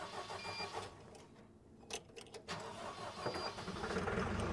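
A diesel engine on an Octane RTD35 8,000 lb forklift cranks and fires up, with a brief pause and several sharp starter bursts before it catches and settles into a rising, steady idle, heard close.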